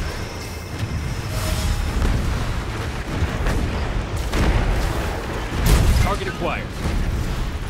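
Missile barrage explosions from a sci-fi strategy game boom and rumble in a dense run of heavy blasts and impacts, loud and close, while a voice speaks over the battle.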